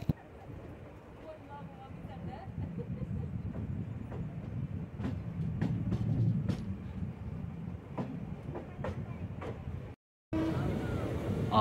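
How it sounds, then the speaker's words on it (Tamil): An unreserved passenger train from Chennai Central to Chittoor, hauled by a WAP electric locomotive, running on the express track near Avadi station. Its rolling rumble is steady, with wheel clicks and clatter, a voice talks over it, and it cuts out briefly near the end. "இப்போ வந்து ட்ரெயின் வந்து எக்ஸ்பிரஸ் ட்ராக்ல தாங்க மூவ் ஆகுது."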